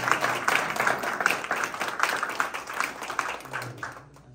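Clapping from attendees at a political workers' convention in Manchester, a patchy round of hand claps that swells and then thins out toward the end, with a faint voice in the background.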